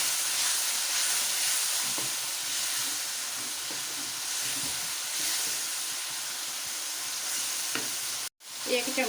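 A spiced capsicum filling with yogurt and garam masala sizzles steadily as it is stirred and roasted in a pan, a constant frying hiss with faint scraping, ending in a brief cut near the close.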